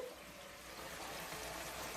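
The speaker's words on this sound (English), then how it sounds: "It's deep frying the whiting fish." Whiting fish deep frying in hot, bubbling grease, giving a steady, dense crackle and sizzle that holds evenly from start to finish with no talking.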